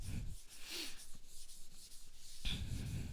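Writing being rubbed off a board during an organic chemistry lesson, with close scratchy rubbing strokes in short bursts, a quieter stretch in the middle, then a final stroke.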